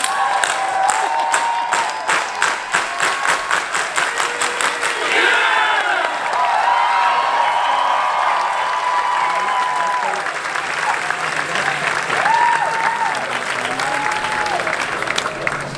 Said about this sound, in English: Clap it up if you're still here.